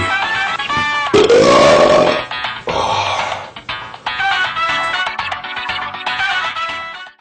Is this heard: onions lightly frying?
no